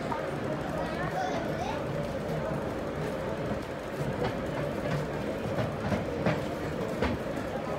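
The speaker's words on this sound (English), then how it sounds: "Our train coming in." An MTR R train rolls into a Hong Kong station with a steady low rumble and some light clacking and squeaks, under sparse nearby voices.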